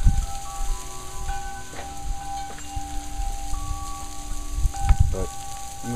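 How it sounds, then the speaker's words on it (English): Steady rain falls outdoors in the early morning, a continuous close patter on surfaces with a few louder knocks and faint tonal chirps in the background; no one speaks. "Right now I think we're just getting rain."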